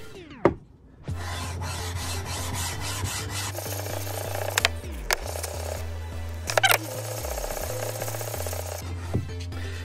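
A medium-grit whetstone for back-flattening has its ends ground down to form a slight curve, producing close, rhythmic rasping rub strokes with brief pauses between passes and no talk.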